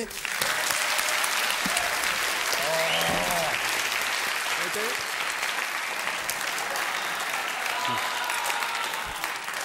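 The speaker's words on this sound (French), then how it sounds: "Applaudissements pour lui." A television studio audience applauds steadily, a dense, loud wash of clapping that continues for several seconds, with faint voices mixed in underneath.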